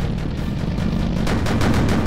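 Rapid machine gun fire in the Sprocket tank game comes as dense, continuous bursts of shots throughout, loud and close, with no talk over it.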